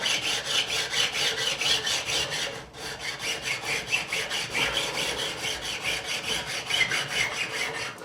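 A file rasps back and forth across the fret ends of a 1978 Fender Stratocaster to cut a bevel, in quick even strokes heard up close. There is one brief pause partway through, and no one speaks.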